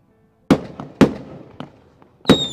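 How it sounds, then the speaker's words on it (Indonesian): Firecrackers at a Chinese funeral burst in sharp, loud separate bangs, three big cracks with a smaller pop between, each leaving a brief ringing tail in the open air. "kalau ada yang meninggal tuh emang harus ada petasan teman-teman. Ini petasannya tuh dari pagi bunyi terus."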